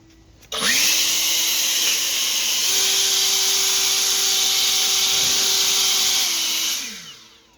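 An EGO 650 CFM battery leaf blower spins up sharply, holds a loud, steady whining rush of air for about six seconds, then winds down. It is close by, with no talking.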